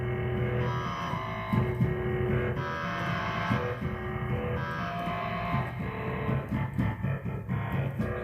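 A razor sound sample processed with heavy distortion, a squashed high end and reverb becomes a continuous gritty, buzzing metal-style drone with rhythmic chugging pulses, dense and steady across the whole stretch.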